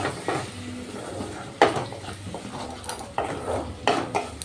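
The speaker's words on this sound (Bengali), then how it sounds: "এবার গুঁড়ো মশলাগুলো দিয়ে ভালো করে আবার কষিয়ে নেব" Ground turmeric and cumin stir-fried in a pan for a Bengali pabda fish curry, giving soft continuous sizzling with several sharp spatula scrapes and clinks against the pan, close and fairly quiet.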